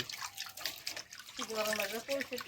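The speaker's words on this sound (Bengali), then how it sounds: "আমি এখন জলটা দিলাম" Water is poured into lentils for Bengali sour dal cooking on a hot day, a close gurgling trickle that grows steadier in the second half, with a voice talking over the start.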